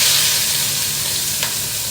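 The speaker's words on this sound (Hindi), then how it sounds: "यहाँ बन रहा है दाल फ्राई, यहाँ बन रहा है दही तड़का।" Dal fry and dahi tadka sizzle in a pan on a home kitchen stove, giving a steady, close frying hiss that carries on without a break and with no voices.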